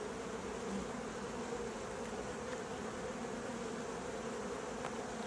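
An open honey bee colony with many drones hums in a dense, steady buzz, close and continuous throughout, with no voices over it.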